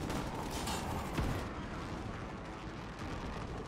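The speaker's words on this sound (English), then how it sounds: "Oh, it's just shotguns." Shotgun fire in Call of Duty Warzone, a loud dense blast with a heavy boom near the middle, rumbling under continuous gameplay noise.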